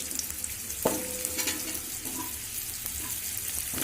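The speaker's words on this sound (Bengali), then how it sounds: "অল্প হলুদ, অল্প লবণ দিয়ে লাল লাল করে ভেজে নেব" Potatoes sizzling and frying steadily in hot oil for a vegetarian dal shukto, a continuous crackle with a sharp stir or clatter near the start, close and fairly quiet with no speech.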